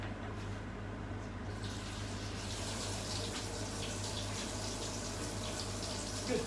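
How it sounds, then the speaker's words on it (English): Water runs steadily from a kitchen sink tap as greasy hands are washed under it, giving a continuous soft hiss and splash at moderate distance, with no talk. "I'll wash my hands first before I turn it on because I'm all greasy"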